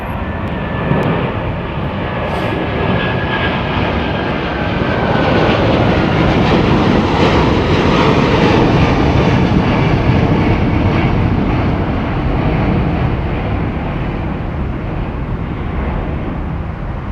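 Airliner with Rolls-Royce Trent 800 engines departing Heathrow, a loud sustained jet roar that swells and holds steady, heard alone without talk.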